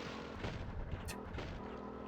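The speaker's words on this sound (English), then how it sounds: "Someone is shooting at me, and that is very rude." Gunfire in Tomb Raider 2, a few muffled booming shots over a constant rumbling game background, with a short sharp crack in the middle and no talking.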